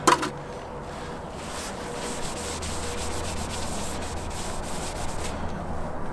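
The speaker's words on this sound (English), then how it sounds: "So I'm going to clean up the aluminum first." A cloth rubs steadily back and forth over an aluminum RV body panel during cleaning with mineral spirits, a continuous close scrubbing hiss with no talk.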